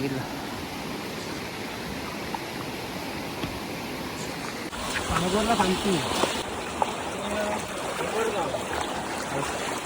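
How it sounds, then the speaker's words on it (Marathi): Flowing water from a swollen village stream in rural Konkan, Maharashtra, rushes and gurgles nearby in a steady wash, with people's voices coming in partway through over the moving stream. "हा बघा हा व्हाळ आहे"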